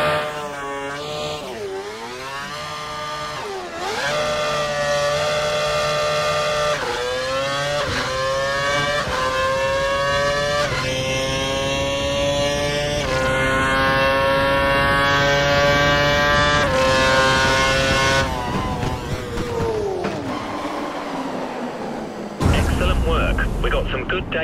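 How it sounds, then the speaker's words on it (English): A Formula One car in the F1 2012 video game accelerates hard down the track, engine whine climbing steadily through several gear changes, loud and close, before a sudden drop at the end. "Head down the track, accelerating past 160 miles per hour, then brake so that you come to a complete stop in the designated area."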